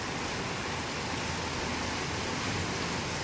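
Steady rain pours down in a continuous, even hiss of countless drops, with no voices present.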